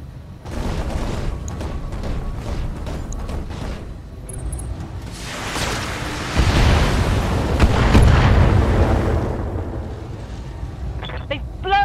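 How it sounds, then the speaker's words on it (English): A BattleTech mech blowing apart as it is destroyed, a heavy rumbling explosion that swells midway and roars loudly with low booming debris, mixed with game effects and voices talking. "Mech destroyed."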